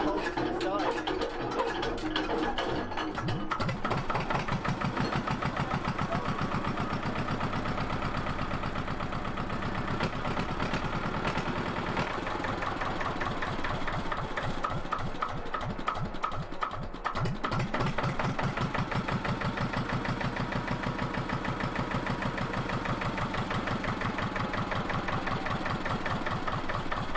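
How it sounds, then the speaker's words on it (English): A 1970s dumper's engine idles and chugs steadily for a long stretch, loud and close with a rough, even mechanical rhythm, while people talk over it. "just listen to that engine, doesn't it just chug along?"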